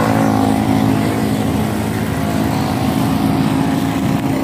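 Steady, loud engine drone with road rumble from a motorbike cruising along the Bocaue highway toward Manila, constant and close throughout without talk.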